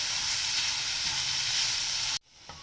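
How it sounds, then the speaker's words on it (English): Grated paneer sizzles and fries in a hot pan while being stirred, a loud, steady hiss and crackle that cuts off abruptly near the end, leaving a faint quieter tail. "To this I am going to add the 250 grams of grated paneer and giving it a good mix."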